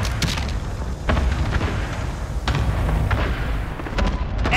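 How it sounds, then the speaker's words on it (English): Cluster strike detonations rumble through a Call of Duty: Modern Warfare team deathmatch on the Piccadilly map, with loud overlapping booms arriving in waves beneath a constant low din. "Allied cluster strike inbound."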